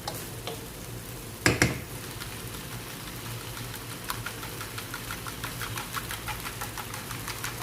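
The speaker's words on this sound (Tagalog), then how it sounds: "At hayaan lang natin siyang magisa ng around 3 minutes." Bitter gourd (ampalaya) sautéing in a pan for ginisang ampalaya: a steady close sizzle with light crackles, and one brief clatter near the start, with no talking.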